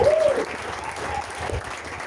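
A church congregation applauds and cheers for Jesus in a dense, sustained burst of clapping that fills the room. A voice is briefly heard at the start.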